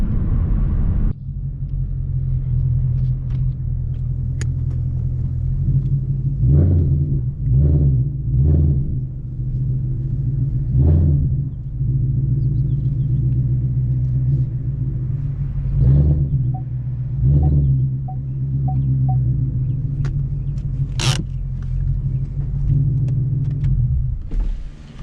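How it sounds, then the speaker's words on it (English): A 2018 Mustang GT with an MT82 manual gearbox rumbles deep and loud while driving, with a steady low drone broken by several brief surges of revving. "this car's a little too loud"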